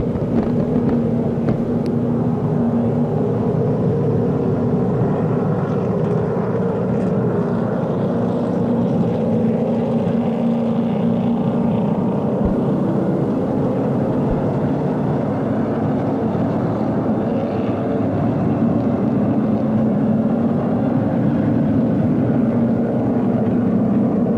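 Late model stock cars roar past on an oval track's front stretch, a steady, loud, continuous engine rumble sustained throughout with crowd ambience and no clear talk.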